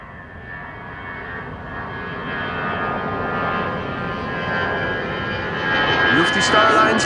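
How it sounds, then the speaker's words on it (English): A Lufthansa Airbus A320 jet flying low on approach at Amsterdam Schiphol: a steady engine roar with a whining tone that grows gradually louder over a few seconds. "Lufty Flight 2301 to Munich, A320. You can see this one is already a bit lower."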